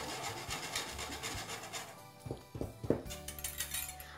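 Flour and dry cookie ingredients being worked through a sifter, a close, soft rubbing rasp with brief scraping and tapping toward the end, no voices.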